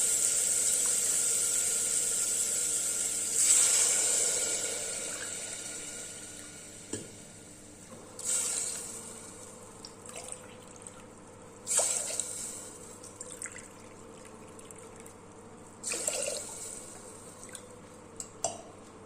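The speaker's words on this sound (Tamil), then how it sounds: "இதுக்கு 5 டம்ளர் தண்ணி ஊற்றுறேன்" Five tumblers of water are poured into soaked rice and lentils in a pressure cooker for venpongal, heard as several separate splashing pours with quiet gaps between them.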